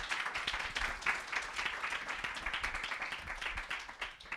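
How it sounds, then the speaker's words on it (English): Audience clapping at an evening digital accessibility meetup after a talk, a few seconds of fairly sparse, distinct hand claps from a small crowd, close and moderately loud, with no talking. "Let's give Tim a round of applause."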